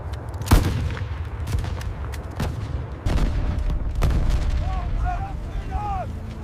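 Gunfire and artillery in a 1942 desert battle: sharp loud cracks and heavy booms at intervals over a constant low rumble of distant firing, with whistling tones near the end.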